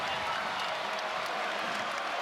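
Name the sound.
basketball arena crowd cheering and applauding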